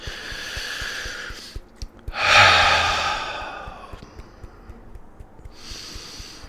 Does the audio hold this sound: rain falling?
no